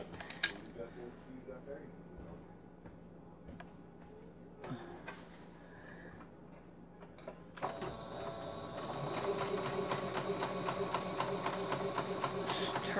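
A sewing machine stitches pockets onto fabric, starting around the eighth second as a dense, steady mechanical whir with rapid needle clatter after quieter handling noises and faint background hum.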